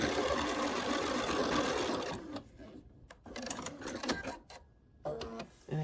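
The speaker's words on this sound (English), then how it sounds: "and then you can just sew it" A sewing machine stitches quilt pieces for a star quilt, running in a steady continuous whir for about two seconds, then in shorter bursts broken by pauses, close and fairly loud.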